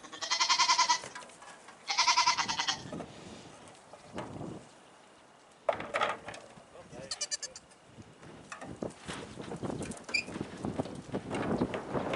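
Goats bleat loudly in two long harmonic calls near the start, then more bleats and scattered knocks as they clamber over a lawnmower and tractor on a farm, with people talking now and then.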